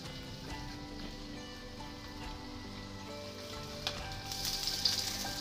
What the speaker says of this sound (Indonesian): Panaskan sedikit minyak atau secukupnya. Kemudian goreng tahu.